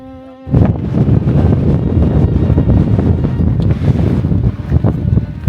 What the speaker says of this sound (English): It's getting very windy at the top.